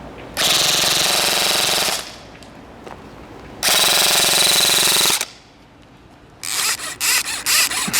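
A Spartan/VFC SRX 303 M4 airsoft pistol fires on full auto in two loud sustained bursts, then a third burst breaks into several shorter rapid strings, with brief mechanical clicks between them.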